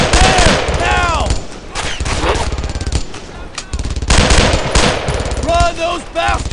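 Machine gun fire in the World War II shooter game Brothers in Arms 2, loud rapid bursts and scattered gunshots in a busy battle, with soldiers shouting over the firing.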